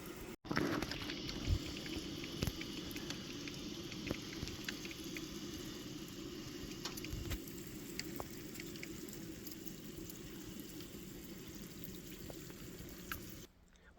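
Water runs steadily from a shower head in an off-grid cabin, making a soft, even hiss with small splashes and drips for several seconds before it stops abruptly.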